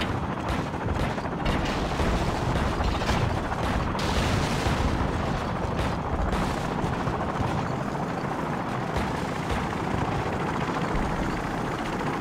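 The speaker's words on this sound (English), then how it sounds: "Crew, be advised, friendly helicopters entering the area." Helicopters in the video game Call of Duty: Modern Warfare, a continuous loud rotor drone mixed with distant gunfire and mechanical clatter, sustained throughout.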